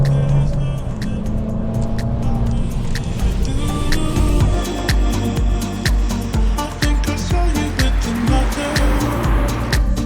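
Engine of a 2019 Abarth 595 Essesse driven hard on twisty roads, a loud, continuous buzzing drone that rises and shifts with revs and gear changes, heard from inside the car with steady road noise.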